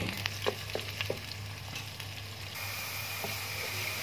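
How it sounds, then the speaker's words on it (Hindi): Onions frying in a pan until lightly golden, a soft steady sizzle with a low hum underneath and a few light clinks of stirring early on, no voices. "प्याज हमने बिल्कुल फ्राई नहीं करने हैं, हल्के से गोल्डन करने हैं।"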